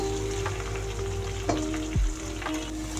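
Green and red chilies fry in a pan for a pulihora tempering, giving a steady close sizzle broken by a few clinks and scrapes of a stirring spoon.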